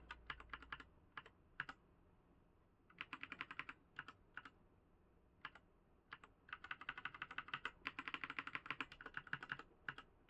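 Arrow keys on a computer keyboard are tapped in quick bursts and single clicks, close and crisp, with short pauses between clusters and no voices.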